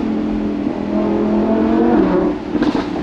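A Lamborghini engine revs hard and climbs in pitch, loud and close, then drops off with a few quick throttle blips at the end.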